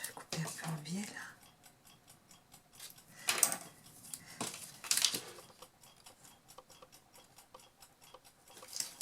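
Scissors snip paper at an angle for a scrapbook album, two or three short crisp cuts close up, with a quiet whispered voice speaking in between.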